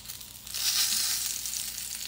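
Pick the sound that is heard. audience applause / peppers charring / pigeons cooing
peppers charring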